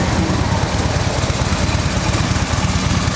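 A 2016 Harley-Davidson Road Glide Ultra touring motorcycle with a 103 cubic inch V-twin engine idles up close at a dealership, a loud, steady low rumble with a fast, even pulse and no speech over it.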